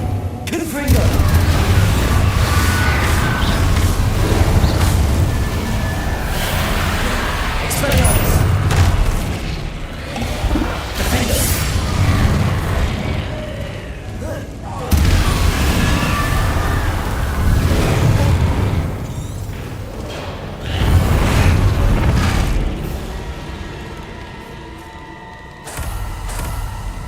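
Confringo fire spells in Hogwarts Legacy go off as loud, repeated booming blasts with crackling bursts, filling the scene almost continuously while a voice shouts over them.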